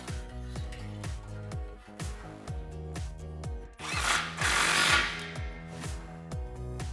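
An impact power tool tightening an exhaust clamp on a 2019-2020 RAM 1500 5.7L while a Corsa Sport dual exhaust is fitted, steady rhythmic hammering bursts at a regular pace with a louder whirring stretch midway, close and loud, no talk.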